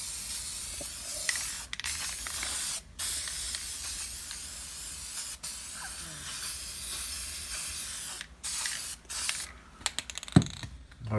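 Steady hiss of spray paint being applied to a knock-off Spirit of Saturn ceiling fan's motor housing, long continuous bursts broken by short pauses and a few clicks of the can, fairly close and with no talking.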